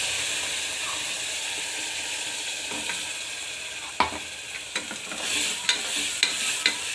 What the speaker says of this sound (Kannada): ಈ ಮಸಾಲೆಯಲ್ಲಿ ಸ್ವಲ್ಪ ಹಸಿ ವಾಸನೆ ಹೋಗೋವರೆಗೂ ಕೈ ಆಡಿಸಿ ಸಾಕು.